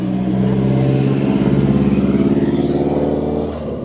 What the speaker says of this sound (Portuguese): Vai passar um caminhão aqui,